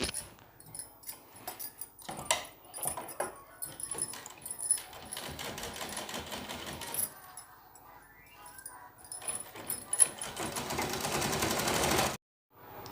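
A domestic sewing machine runs stitches along a folded petticoat seam in short irregular bursts, with handling clatter between runs, before stopping abruptly near the end.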